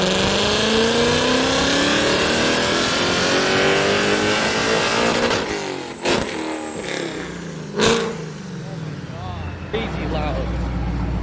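A 700-plus horsepower supercharged Mustang GT running E85 roars through a hard pull, its engine note rising loudly before easing off, followed by quieter driving noise and a few sharp knocks.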